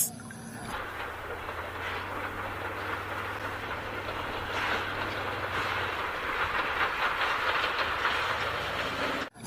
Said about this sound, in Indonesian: yang ini kereta Thomas.